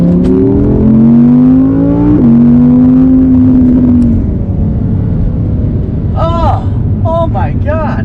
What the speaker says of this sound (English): Listen to these downshifts